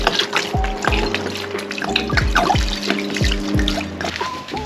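Water pours from a jug into a cooking pot of carrots, potatoes and onions over a campfire, a close, loud burbling splash with gurgling glugs repeating at a steady rhythm as the pot fills.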